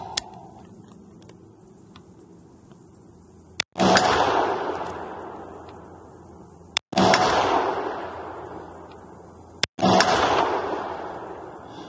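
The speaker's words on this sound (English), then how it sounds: "We're shooting the PMC X-Tac match" Three sharp, loud rifle shots from a Lanxang Cas-22 firing PMC X-Tac match ammunition at an outdoor range, each a sudden crack followed by a long rolling echo, spaced a few seconds apart with no talk.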